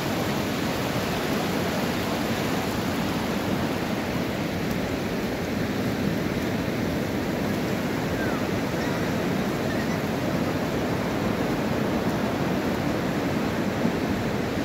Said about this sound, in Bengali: যত বেলা বাড়ছে ঢেউ দেখো আস্তে আস্তে করে অনেকটাই বাড়ছে।